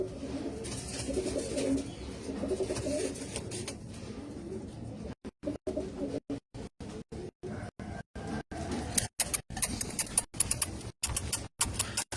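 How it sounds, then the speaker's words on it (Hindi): Dobaaz pigeons, a fancy breed kept by a Sindh fancier, coo softly at close range amid rustling and bird calls, with the sound breaking into short choppy bursts in the second half. "अब ये वो दोबाज कबूतर हैं।"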